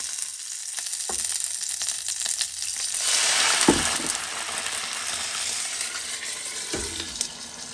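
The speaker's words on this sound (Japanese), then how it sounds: "最初はちょっと焼き目をつけて、で、水を入れて蒸し焼きにします。" Frozen vegetarian gyoza sizzle steadily in a pan, browning first and then steam-frying once water is added. The crackle swells in the middle, with a few utensil knocks heard close by and no one speaking.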